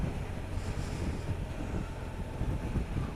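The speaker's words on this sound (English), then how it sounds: "It's a bit windy" Steady wind buffeting the microphone outdoors in Wanlockhead, a constant low rumbling roar with no voices.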